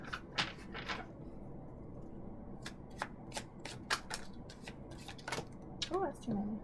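Tarot cards shuffled by hand, a series of quick crisp riffling bursts at irregular intervals, close and fairly quiet, with a soft voice briefly heard near the end.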